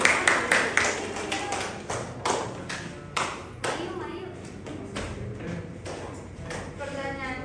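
A small classroom group claps together in a brief burst of sharp handclaps that starts strong, thins out into scattered taps and fades, with a voice speaking over the tail.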